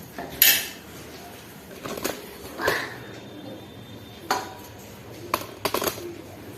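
A knife cuts taro stems (kochu) in a home kitchen with sparse, irregular sharp taps and clicks spread across a quiet background, a few landing close together.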